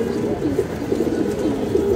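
Pigeons in a rooftop loft in Dhaka coo continuously in low, throaty, rolling calls, several birds overlapping close by and fairly loud, with no talk.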